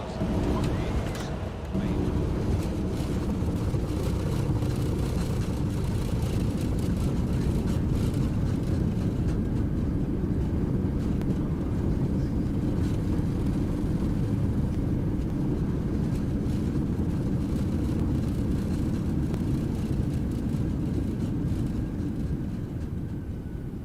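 A Sri Lankan Airlines A321 lands in X-Plane 11 with a steady, loud low jet roar and rumble that holds throughout. A voice talks over the engine noise.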